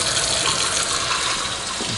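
Hot water runs from a tap into a stainless steel sink, a loud, close, steady rushing gush that lasts throughout with no talk.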